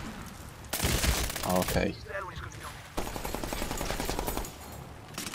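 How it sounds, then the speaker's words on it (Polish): Two rapid bursts of light machine gun fire in a video game, loud and close, separated by a short pause, with a voice speaking briefly. "To jest taki lekki karabin maszynowy, który może nam sporo napsuć krwi."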